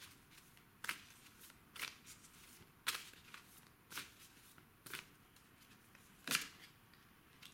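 Oracle cards being shuffled, heard as about six short, soft riffling bursts spaced roughly a second apart against quiet room tone, with no one speaking.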